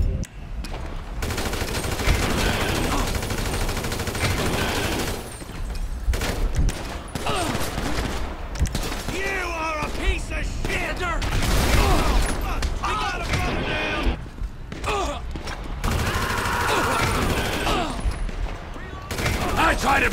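Gunfire in Grand Theft Auto 5 during a rampage: loud, near bursts of rapid shots and booms fill the whole stretch, mixed with shouting voices.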